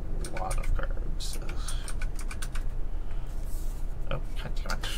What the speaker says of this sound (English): I'm just over here typing away